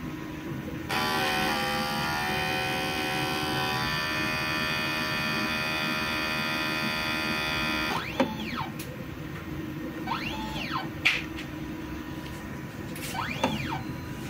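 An inkjet printer runs a head cleaning cycle, starting with a steady whirring motor drone, then giving several short rising-and-falling mechanical whines as the carriage moves, all close and moderately loud.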